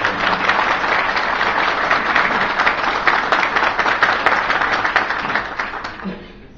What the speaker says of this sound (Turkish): Ve kendilerine bir alkış veriyorum.